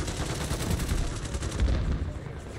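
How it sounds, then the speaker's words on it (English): An airstrike in Warzone 3, with rapid, rumbling blasts rolling in a dense barrage, loud and continuous with heavy low thuds. "Airstrike incoming."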